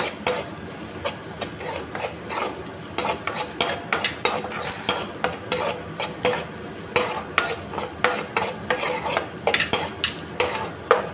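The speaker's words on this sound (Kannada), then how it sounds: "ಇದಕ್ಕೆ ಒಂದು ನೀರುಳ್ಳಿ, ಮೀಡಿಯಮ್ ಸೈಜ್ ಒಂದು ನೀರುಳ್ಳಿ ಹಾಕ್ಕೊಳ್ತೇನೆ. ಚೆನ್ನಾಗಿ ಸ್ವಲ್ಪ ಫ್ರೈ ಮಾಡ್ಕೊಳ್ತೇನೆ." Chopped onion fries in hot ghee for a coastal-style crab ghee roast while a metal spoon scrapes and clinks against the pan in a steady stirring rhythm, close up, over a soft sizzle.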